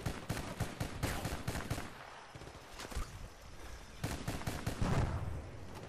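Rapid bursts of automatic gunfire and explosive shots from the video game Battlefield Bad Company 2, loud and dense, with short pauses between volleys.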